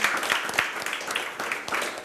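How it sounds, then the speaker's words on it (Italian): Brief, fairly faint audience applause at a football club event, scattered clapping from a small crowd lasting about two seconds. "A cui facciamo un applauso, grazie per essere qui."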